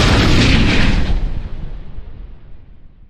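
A loud gunshot sound effect hits at once as a heavy, booming blast, then a long rumbling tail fades away over about three seconds, with no voices.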